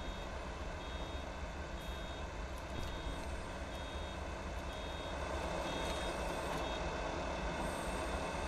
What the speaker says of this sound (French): Avec le bruit des vérins et tout, je sais pas si t'as entendu, c'est vraiment bien.